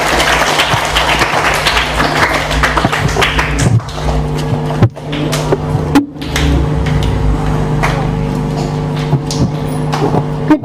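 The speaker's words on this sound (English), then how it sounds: "Now clap your hands all together." An audience claps at a children's English speaking event, with dense, steady applause that thins to scattered claps and a few taps toward the end, heard fairly close.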